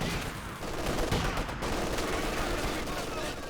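Twin MG42 machine guns fire in a Company of Heroes 2 match, their rapid bursts rattling steadily at moderate volume over a busy mix of game battle noise.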